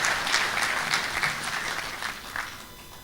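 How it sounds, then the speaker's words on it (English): Audience applause for the Minister at a graduation ceremony and annual lecture, a steady moderate wash of many hands clapping that holds for the full stretch with no talk. "I think we need to give a round of applause to the Minister."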